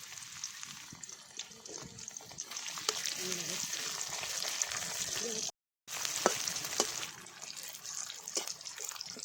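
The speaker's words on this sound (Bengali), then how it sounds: "পেঁয়াজটা ভাজা হয়ে গেছে" Sliced onions fry in oil with cumin seeds in a village-style kitchen. A soft, continuous sizzle is heard with occasional stirring scrapes, fairly quiet and close, and a brief gap of silence partway through.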